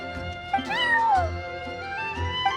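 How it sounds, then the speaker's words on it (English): A cat meows in the Genshin Impact video game, giving a couple of clear, drawn-out, rising-and-falling calls close up over a steady background of music. "that's my neighbor's cat"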